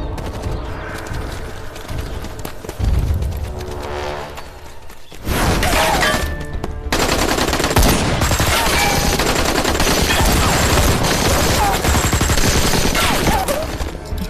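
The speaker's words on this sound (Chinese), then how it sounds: "矿场那边好像有枪声" Film sound effects of gunfire at a mine site: a quieter passage gives way to loud bursts of rapid automatic fire and scattered shots with sharp cracks, running dense and continuous through the latter part.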